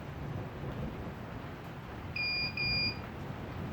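A Fanimation Drone ceiling fan controller gives two short electronic beeps in quick succession over a steady low hum, the second slightly longer than the first.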